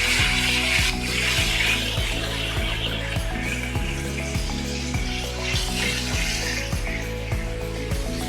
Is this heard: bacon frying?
yes